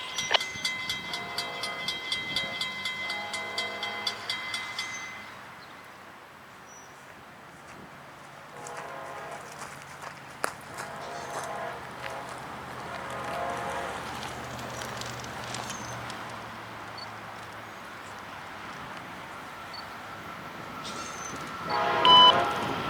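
Florida East Coast Railway freight train rumbling past on the main line, with a steady low roll of railcars, a sustained horn-like tone early on and a brief sharp toot near the end.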